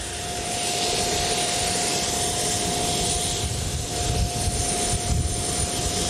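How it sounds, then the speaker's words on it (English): Jet engines of the White Knight carrier aircraft for SpaceShipOne starting up at Mojave, a loud continuous roar with a steady high whine running through it, close and sustained. "the unmistakable sound of jet engines fills the air"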